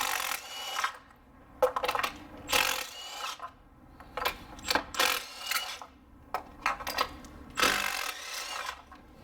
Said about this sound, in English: I'm going to use the gun to remove them